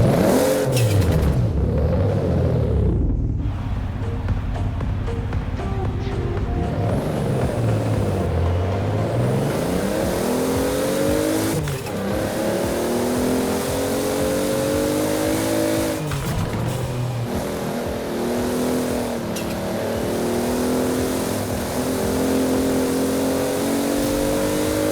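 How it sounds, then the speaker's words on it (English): A bone stock Toyota Supra in the racing game Forza revs and accelerates through repeated gear changes, its engine pitch climbing, dropping and climbing again, loud and continuous for the whole stretch with no talking. "I'll be quiet for a second so you can hear the engine"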